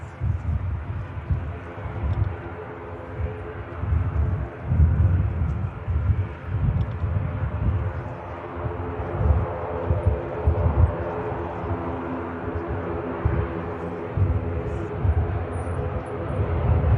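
A Saudi Boeing Dreamliner jet arriving from Jeddah at Manchester Airport produces a low, steady engine rumble with wind buffeting, moderately loud and continuous across the whole stretch.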